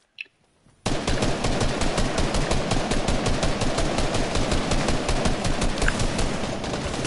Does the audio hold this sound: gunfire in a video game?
yes